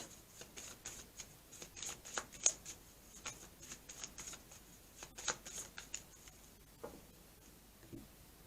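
Playing cards are shuffled close up for a surprise card draw, a run of quick riffling bursts and soft flutters in an uneven rhythm, fairly quiet and free of talk.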